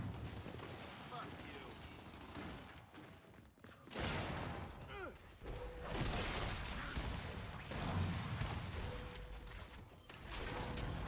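Gunshots and mechanical weapon clatter in Gears 5 ranked Control play, several sharp bursts amid busy game noise, with a person talking over it.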